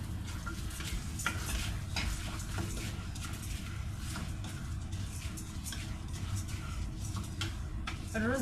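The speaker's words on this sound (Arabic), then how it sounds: "وهنفضل بقى نشوح في الرز ده كويس جدا." Rice being stirred and toasted in a pot, a steady scraping stir with a continuous soft sizzle throughout, close and fairly loud with no voices.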